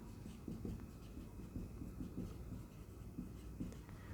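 Marker or chalk writing out the kinetic energy formula during a physics lecture on energy, a quiet series of short scratchy strokes in uneven bursts, faint and close, with no talking.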